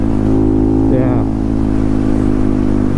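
A Honda Grom motorcycle fitted with a swapped-in CBR engine revs hard up close, with a loud, steady drone and a brief pitch rise near the middle.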